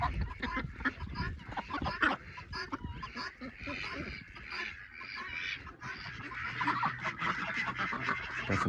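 Ducks and geese on a farm honk and quack in an irregular, overlapping chorus at close to moderate range, mixed with other fowl calls.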